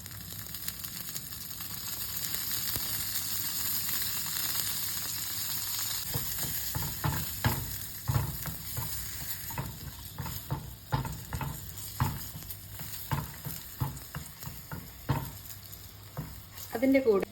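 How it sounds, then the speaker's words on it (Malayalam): Dried red chillies fry in coconut oil in a pan. A quiet, even hiss comes first, then scraping and clicking stir strokes break through the sizzle in irregular bursts, all close and fairly soft. "ഈ മുളകൊന്ന് വറുത്തെടുക്കാം."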